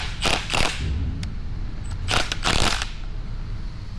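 Bolts on a Caterpillar D10T final drive being run down with a power tool in short whirring bursts, two main runs with brief clicks between, close and fairly loud.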